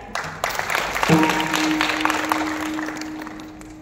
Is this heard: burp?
no